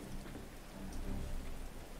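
Steady rain falls in the medieval colony-building game Going Medieval, a dense, even hiss of drops on surfaces that continues without a break and with no voices.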